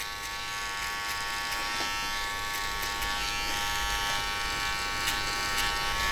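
Electric hair clippers with an open blade buzz steadily and close up while cutting a skin fade, a constant high-pitched hum lasting throughout with no talk.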